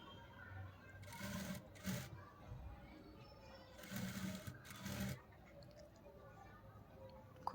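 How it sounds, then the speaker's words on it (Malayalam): Domestic sewing machine stitching folded fabric for a kurti or churidar top, coming in two short runs of rapid mechanical whirring, each about a second long, between quieter pauses. Faint room noise sits underneath. "പുറം മറിച്ചിട്ട് ഒന്ന് ഫോൾഡ് ചെയ്തിട്ടൊന്ന് സ്റ്റിച്ച് ചെയ്ത് കൊടുക്കുക"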